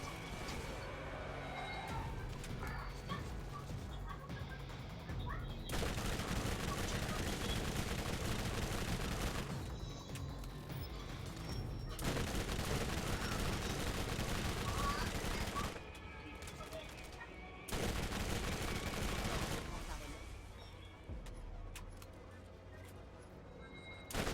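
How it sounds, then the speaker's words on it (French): Shotgun blasts and other gunfire in the video game Borderlands, coming in dense, loud bursts of firing separated by brief lulls, over a steady backdrop of game music and effects. "le fusil à pompe il me sert à me sortir de la merde comme ça"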